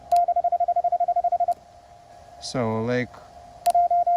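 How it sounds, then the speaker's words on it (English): Morse code sidetone from a QRP Labs QCX-mini transceiver keyed with an iambic paddle: a rapid string of evenly spaced beeps, a pause, then a short burst of speech, then another quick run of beeps. "You hear which paddle is pushed first, then you hear the dot, and then you hear the series of dashes"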